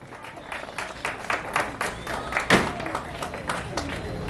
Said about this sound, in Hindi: जोरदार तालियों के साथ स्वागत करते हुए